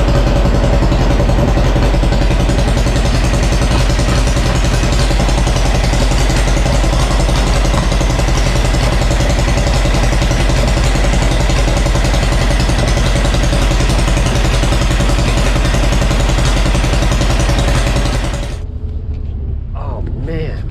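Engine of a street legal sandrail idles loud and close after carburetor adjustment, a steady rough rumble that runs throughout and cuts off abruptly near the end.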